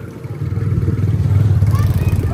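A motorcycle ridden through a village in Pakistan on Eid gives off a steady, close engine drone that grows slightly louder, with faint voices mixed in.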